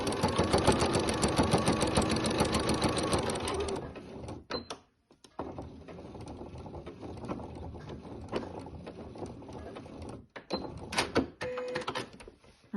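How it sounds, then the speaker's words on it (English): A sewing machine stitches a fabric bowl cozy, running in a loud, rapid, steady whir for about four seconds before stopping, followed by quieter handling of cloth and clunks of the machine. "So I'm going to sew."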